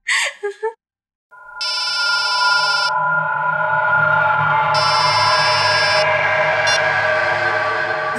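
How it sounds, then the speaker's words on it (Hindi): Mobile phone ringing in two electronic bursts of high warbling tone, with a short gap between them, over a low sustained musical drone; a brief voice is heard at the start. "मैडम आपका फोन बज रहा है।"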